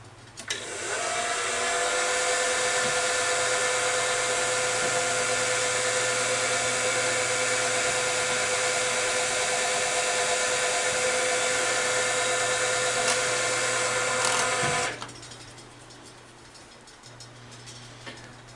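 A spotting drill drills metal with a loud, steady high-pitched whine that runs continuously for about fourteen seconds, then cuts off abruptly, leaving a quiet low hum.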